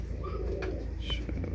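Pigeons give a few soft, close coos in short bursts over low background noise, with no talk.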